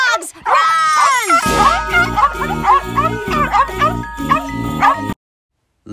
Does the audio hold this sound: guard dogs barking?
yes